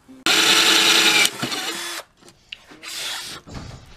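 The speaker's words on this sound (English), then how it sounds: "I'll know exactly where to drill through." A power drill bores through an amplifier kit panel in one loud sustained burst of about a second, followed by quieter intermittent whirring and rattling as the bit runs and the work is handled.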